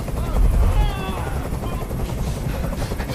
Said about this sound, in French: Fais dégager cet hélicoptère, maintenant!